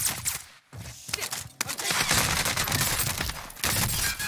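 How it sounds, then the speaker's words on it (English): Loud automatic gunfire in the Call of Duty Warzone battle royale game, with an AK47 in play: rapid bursts and scattered single shots that grow into a dense, continuous volley. "I'm getting shot from the other side as well"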